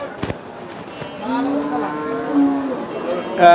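A cow gives one long, drawn-out low moo at a cattle market, with a few sharp pops before it and faint background chatter around it.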